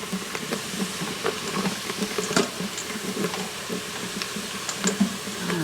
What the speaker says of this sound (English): So I've got just a little white wine here. And go ahead and deglaze my pan.